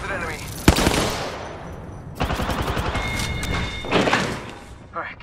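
Gunfire in Apex Legends, one sharp loud shot followed by bursts of rapid automatic fire and a few thuds, heard close over short stretches of in-game voice chatter.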